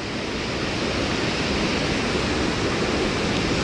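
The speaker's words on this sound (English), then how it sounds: "There's water coming down the whole sides now." Water pours down both sides of Pretty Boy Dam in a steady, loud broadband roar that fills the whole stretch without a break.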